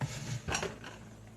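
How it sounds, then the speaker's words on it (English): A microwave-safe bowl clinks and knocks against a kitchen surface, a couple of close, short contacts with a light ring fading afterward, with no talking. "I will be using a microwave safe bowl over here"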